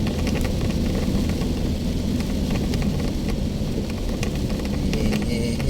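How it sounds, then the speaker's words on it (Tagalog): Steady heavy rain pours over a street in Mandaluyong City, a dense, unbroken hiss with a low traffic rumble underneath, loud and close throughout with no one speaking. "Isang ulan, no?"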